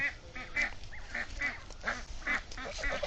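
A flock of village ducks, eight to a row walking along a rural Bangladeshi road, quacking in short nasal bursts that overlap and repeat in quick succession against faint outdoor background noise.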